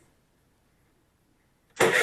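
A boat engine cranks and catches with a sudden loud burst after near silence, its start-up coming abruptly at the very end during a winterization flush.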